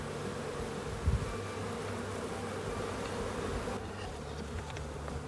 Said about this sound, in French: les abeilles qui restent puissent accéder à la ruche